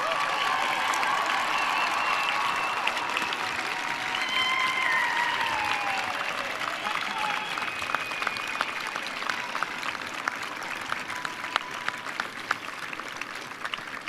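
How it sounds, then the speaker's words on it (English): A commencement crowd gives long, steady applause, a dense wash of clapping with whoops and cheers rising over it, loud and continuous throughout. "show your appreciation to those here today with a rowdy, hearty round of applause."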